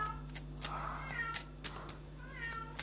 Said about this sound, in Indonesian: Kenapa sih itu kucing aku?